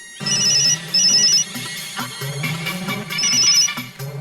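A telephone ringtone chimes loudly in repeated electronic bursts with short gaps between them, sounding alone with no voices.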